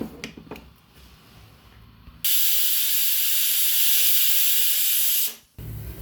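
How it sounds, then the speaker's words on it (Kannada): A pressure cooker lets off steam in a loud, steady hiss lasting about three seconds, starting abruptly and cutting off sharply. "ಈಗ ಕುಕ್ಕರ್ ಮುಚ್ಚಿ ಒಂದು ವಿಜಲ್ ಹಾಕಿಸ್ಕೊಳ್ತಾ ಇದ್ದೀನಿ"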